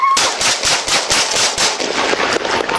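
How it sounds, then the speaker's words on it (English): Rapid bursts of gunfire ring out during a police arrest, loud and close, with dense repeated shots packed together in a continuous volley. "Shots fired, shots fired."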